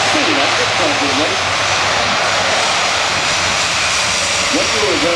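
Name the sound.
Airbus A400M Atlas aircraft engines while reversing down runway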